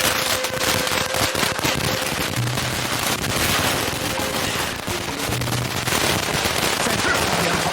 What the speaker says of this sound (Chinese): 外面怎么会有鞭炮的声音？